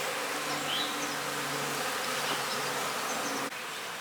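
Honey bees buzz steadily around the bottom of an open hive box, a dense, continuous hum with a few louder individual buzzes passing close by, and no voices.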